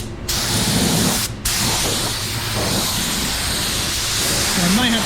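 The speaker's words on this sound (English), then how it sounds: "don't like the way it's atomizing the spray" A 3M Performance paint spray gun atomizes sealer and base coat in a steady, loud hiss that runs almost unbroken, with a short break near the start, and a faint voice in the background.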